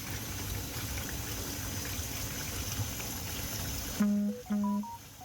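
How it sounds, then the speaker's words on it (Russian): Continuous rush of black, foul-smelling dirty water running from a tap, steady and close, ending with a brief tonal hum as the flow changes. "Вот такая вода у меня льется из-под крана."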